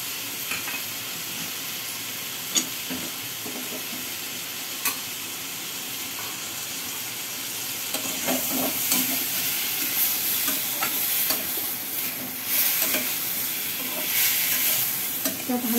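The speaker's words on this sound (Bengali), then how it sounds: "কষিয়ে নিচ্ছি।" Ginger, garlic and chili paste sautéed in a pan for a fish curry, with steady close sizzling and frying hiss, occasional stirring scrapes, the sizzle growing louder and denser partway through.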